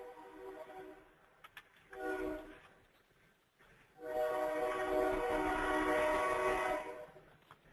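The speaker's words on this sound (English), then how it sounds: "You may be hearing our 12 o'clock train, so maybe we'll wait until the train goes by." A midday train passing, with loud repeated horn blasts, the first two short and separated, then a long sustained blast over the rumble of the train, with no speech.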